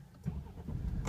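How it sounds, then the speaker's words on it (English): A 2016 BMW 328i xDrive engine cranks and catches with a short burst, then settles into a steady low rumble, heard close from the driver's seat. "So let's fire this puppy up."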